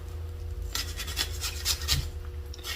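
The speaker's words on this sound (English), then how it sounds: "So you wanna mince the onions, and you want to make it smaller in size" Onions being minced on a board, a run of quick rasping knife strokes and scrapes at close range over a low steady hum.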